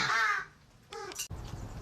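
Crows in a wildlife rescue center aviary feeding on raw meat let out a loud caw followed by a shorter, fainter call, with rustling and pecking noises close by.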